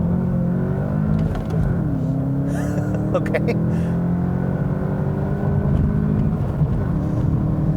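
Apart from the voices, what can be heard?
Volkswagen Jetta GLI accelerating 0 to 60 with wheel hop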